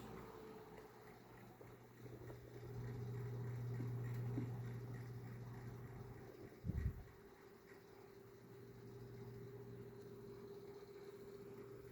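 A 1981 Lasko Galaxy 12-inch table fan runs on low with oscillation, giving a steady, faint hum and airy whoosh with a low tone that swells and fades, and one brief knock partway through.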